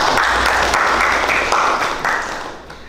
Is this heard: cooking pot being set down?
no